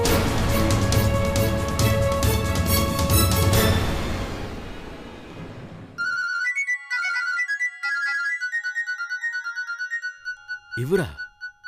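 A mobile phone rings for an incoming call in a Tamil TV drama, a bright repeating electronic ringtone melody that starts after a stretch of loud music, followed by a short voice burst.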